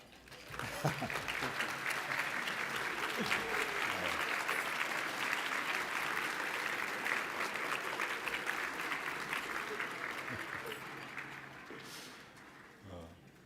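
A luncheon audience at an award event applauds as staff and table captains stand: a steady, dense round of clapping that holds for about ten seconds, then tapers off, with a faint voice near the end.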